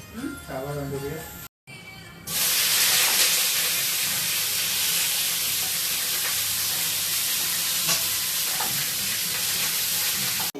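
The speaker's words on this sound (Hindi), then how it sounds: "अभी सिर्फ गोभी डालेंगे, गोभी को अच्छे से फ्राई करेंगे" Cauliflower fries in ghee with a loud, steady sizzle that runs unbroken for roughly eight seconds, following a brief voice and a short gap at the start.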